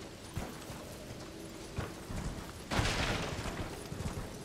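Hoofbeats of the Night's Cavalry horse in the video game Elden Ring, a few soft scattered thuds and then a louder burst of clattering motion, fairly quiet overall.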